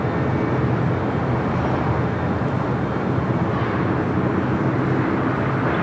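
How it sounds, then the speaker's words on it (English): A WestJet Boeing 737-800 landing on runway 25 left at LAX, a continuous broad jet roar that holds steady throughout, loud and somewhat distant, with no talking. "Landing on 25 left."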